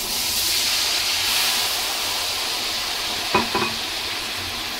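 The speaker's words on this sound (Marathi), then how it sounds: "छान आपण बटर फ्राय बटरमध्ये पनीर फ्राय करून घेऊया।" Paneer sizzles and fries in butter in a pan, a steady bright hiss running throughout with a couple of brief stirring clatters near the end; no one talks.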